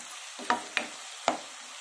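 Onions frying with salt in a pan give a soft sizzle broken by three quick scraping stirs of a spatula, close and quiet, with no voices.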